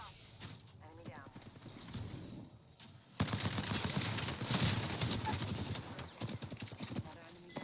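Rapid gunfire in the shooter game Apex Legends crackles in dense bursts, close and loud, after a quieter stretch with game voice lines and effects underneath.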